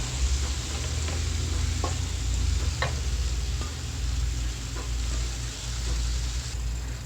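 Bitter gourd and tomatoes sautéing in a pan for a bitter gourd thokku, a steady sizzle broken by a few scraping stirs of a spoon against the pan, close and unbroken, with no talking.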